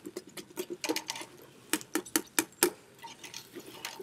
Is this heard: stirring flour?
yes